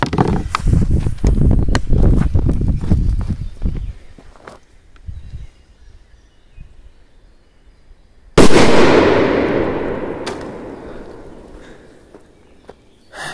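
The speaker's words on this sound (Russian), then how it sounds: "давайте бахнем эту канистру какой-то супер мощной петардой, например, Корсар 7" A Korsar 7 firecracker blows apart a canister in a forest: one sudden loud blast after a quieter stretch, followed by a long decaying rumble and debris. Earlier come rustling and footsteps, with no talk.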